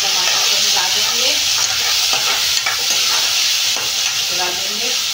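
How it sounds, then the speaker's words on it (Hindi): Tomatoes being stirred into onions frying in a pan, a steady loud sizzle with scraping stir strokes throughout, no talking. "टमाटर को मिला देंगे"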